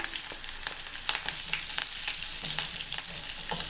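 Green chilies, dried chilies and curry leaves frying in hot oil for a dal curry with drumstick leaves, a steady close crackling sizzle with sharp pops and spatters throughout.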